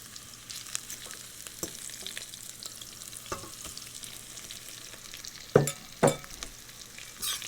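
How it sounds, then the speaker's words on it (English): Shrimp frying in hot shimmering oil in a pan, a steady soft sizzle with a few sharper crackles and stirring clatters near the end, no talk. "the oil is hot and shimmering, and so I'm going to put in some shrimp"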